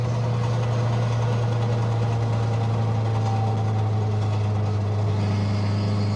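A Peugeot 106 fitted with a superbike engine drives along with a steady, droning engine note and constant vibration, loud and close throughout, with no voices.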